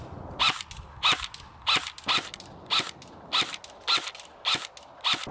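An airsoft gun firing single shots at an even pace, about nine sharp snappy cracks roughly half a second apart, close and loud, with no talk.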